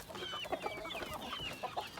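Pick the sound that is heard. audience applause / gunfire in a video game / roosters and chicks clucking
roosters and chicks clucking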